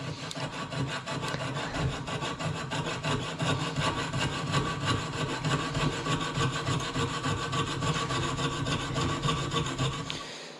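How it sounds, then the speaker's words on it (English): Hand sawing through a workpiece to cut a ring blank, with a steady rapid back-and-forth rasping of the blade running close and continuous for about ten seconds, no voices. "Let's saw this thing up and see what we don't come up with"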